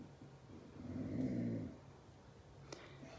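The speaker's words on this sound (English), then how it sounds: "Gosh, my dog." A dog gives a low, rumbling growl that rises and fades over about a second, fairly faint in a quiet room, followed by a brief sharp click.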